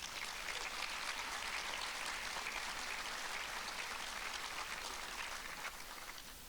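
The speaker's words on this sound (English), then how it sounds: "please give them a round of applause as well" Dense, steady applause from an audience at an evening speaking event, a continuous wash of many hands clapping that holds level throughout and eases slightly near the end, with no talk over it.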